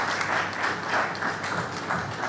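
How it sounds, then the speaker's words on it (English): Seated audience clapping at a Nigerian Bar Association Eti-Osa branch law week event, a continuous, even wash of applause with gentle swells and no talking. "Keep clapping as she makes a seat."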